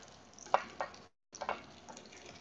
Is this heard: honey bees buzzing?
no